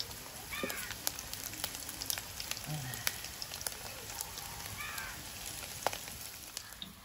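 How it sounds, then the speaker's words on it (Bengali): Gram flour and fish roe fritters fry in hot oil that sizzles steadily with sharp crackles and pops scattered throughout, while faint voices come through briefly in the background. "বড়াগুলো এগুলো ভাজা হয়ে গেছে, প্লেটে তুলে নেব, নিয়ে বাকিগুলো ভেজে নেব।"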